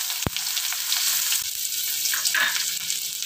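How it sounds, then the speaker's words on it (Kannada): Chopped onion dropped into hot oil with popping mustard seeds, giving a soft, steady sizzle with a few crackles and no talking. "ಈರುಳ್ಳಿ ಹಾಕ್ಕೊತೀನಿ"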